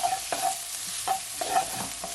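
Salt and pepper shrimp with spring onions and chili peppers are stirred in a hot pan, giving rhythmic scraping strokes about every half second over a constant close sizzle.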